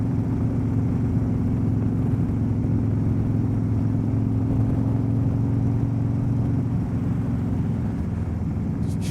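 Motorcycle engine running steadily on a backroad ride in Tennessee, a continuous low rumble that stays even and fairly loud throughout, with no talking.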